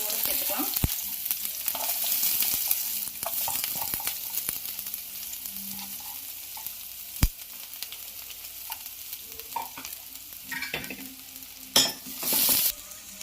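Chopped onion frying in oil with mustard seeds and urad dal for South Indian moong dal sambar: continuous crackling sizzle with scattered sharp pops and spatula scrapes and stirs, moderately close, with no talking.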